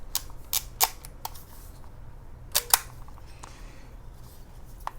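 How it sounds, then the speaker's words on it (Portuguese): A 1960s-era film camera's shutter is released and the advance lever wound, producing several sharp mechanical clicks and snaps close to the microphone, in brief clusters over a quiet background. "Para armar o filme, você gira essa alavanca para a direita e faz o disparo aqui."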